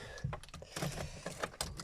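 A car key for an Audi A4 B5 Quattro is slid into the ignition, giving faint, close metallic clicks and jangling taps in a quiet garage.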